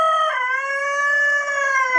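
A rooster crows in one long sustained call, loud and close, with strong clear harmonics and no talking.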